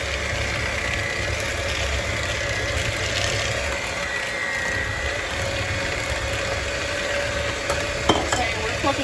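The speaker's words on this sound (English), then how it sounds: "So I'm going to go ahead and whisk this" A whisk beats banana oatmeal chocolate chip cookie batter in a bowl, producing a steady, continuous scraping churn that holds an even level for the whole stretch, with a brief knock near the end and no talk.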